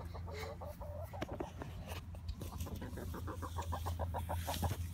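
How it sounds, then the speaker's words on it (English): Rooster and hens in a backyard flock clucking, a steady run of soft, rhythmic clucks and short calls over a low hum, moderately close, with no talking. "That's the rooster."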